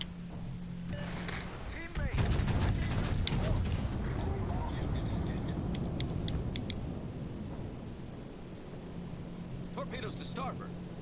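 Naval gunfire in the World of Warships Legends game sounds as a sudden heavy blast followed by a rumbling burst of shots, under nearly constant talk, with later quieter pops.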